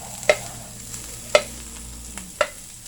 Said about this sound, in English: Just saute it